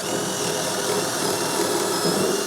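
A power drill bores through a wooden workbench bearer, a steady, loud whirring drone that holds evenly throughout, close and alone.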